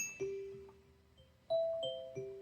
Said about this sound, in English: This is how annoying you want your bells to sound.